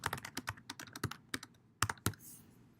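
Typing on a computer keyboard, a close, uneven run of crisp key clicks with a few brief pauses and no voices.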